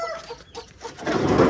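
A hen clucks in short bursts while being handled and moved, close and fairly loud, ending in a rising scuffle of noise.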